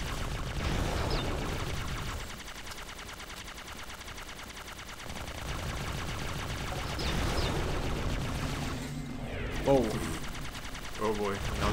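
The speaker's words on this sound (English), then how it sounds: "Plasma rifle SMG combo." Plasma rifle and SMG firing in Halo CE: rapid, sustained automatic bursts come in several stretches, mixed with game effects and a person talking over the action.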